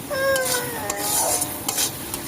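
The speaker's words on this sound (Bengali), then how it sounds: "মশলাটা কষাচ্ছি ছাটের জন্য" Spice paste for meat being fried and stirred in a pan, a steady sizzle with scraping stir strokes close up, alone without talk.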